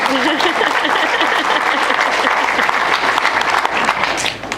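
Loud, sustained applause from mourners at a eulogy fills the room, with voices talking underneath the clapping.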